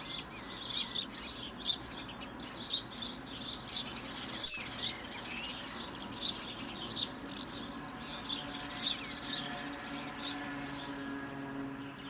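Steady, busy chirping of house sparrows fills the scene, quick repeated tweets over a quiet outdoor background, with one brief knock midway.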